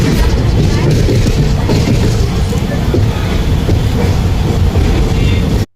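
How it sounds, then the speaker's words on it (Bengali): Teesta Torsa Super Express pulling out of New Jalpaiguri toward Sealdah, heard from inside as a steady loud rumble with low booms and rail clatter throughout, cutting off abruptly at the end. "তো শেষমেশ নিউ জলপাইগুড়ি থেকে ট্রেন রওনা দিয়েছে শিয়ালদা স্টেশনের দিকে।"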